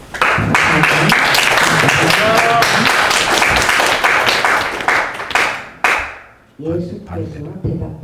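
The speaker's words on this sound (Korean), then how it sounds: "주님께 한번 크게 한 박수 한번 올려드리고 싶습니다" Korean worship congregation clapping loudly at a thanksgiving service for a theology doctorate, a dense burst of hands with voices mixed in, briefly dropping off before talking resumes.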